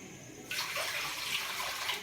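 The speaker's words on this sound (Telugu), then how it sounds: "ఒక గిన్నె వాటర్ అయితే ఇలానే పోసుకున్నాను" Two cups of water poured into a cooking vessel for festival payasam: a quiet room, then a sudden steady rush of pouring water that continues evenly to the end.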